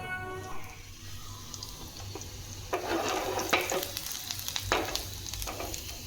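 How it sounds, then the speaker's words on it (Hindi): Hot oil sizzles and crackles as spices hit the pan for tempering dal, with scattered pops and a stirring clatter, close and moderately loud with no talking. "मैं कर रही हूँ बघार अपनी दाल के लिए।"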